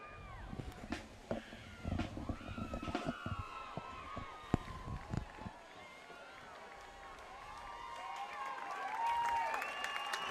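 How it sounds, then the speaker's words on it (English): Crowd applause at a high school football game for a marching band, steady clapping and cheering from the stands mixed with a public-address announcer's speech and some shrill whistles. "a great round of applause here for the Winnacunent Marching Band."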